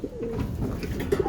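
A pet balileng bird coos softly at close range, a few low, gentle hoots in quick succession against a faint room background.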